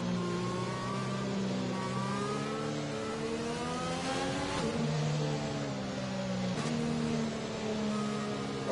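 F1 race cars in a video game warm up their tires at the Portugal race, engines revving and shifting in rising and falling tones, several cars overlapping at moderate distance, with a couple of sharp gear changes and no talk.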